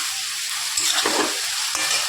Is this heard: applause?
no